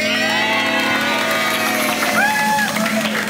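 Studio audience on an Indonesian TV comedy variety show cheering and clapping, a steady crowd roar with whoops and shouts over music, moderately loud throughout.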